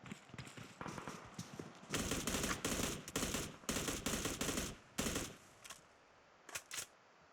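Rapid bursts of automatic gunfire crackle and pop in a PUBG Mobile firefight, clustered volleys separated by short pauses, followed by a few sparse shots at the end.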